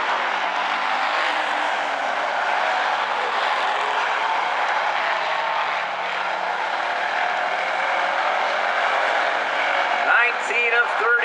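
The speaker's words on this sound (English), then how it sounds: "Nose to tail, they run for the lead, and nose to tail, they race for third." Hobby Stock race cars roar nose to tail around the South Sound Speedway oval, a loud continuous engine drone with a rising whine near the end as cars pass close.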